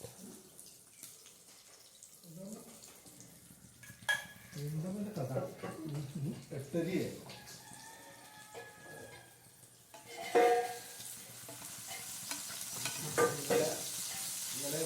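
Tempering frying in coconut oil in a home kitchen, a soft steady sizzle with stirring and clinks, a sharp burst of crackle midway, under ongoing talk.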